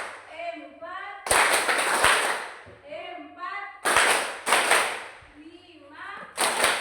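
A class of students in a lesson claps hands together in sharp, loud bursts, alternating with group voices counting aloud between the rounds of clapping.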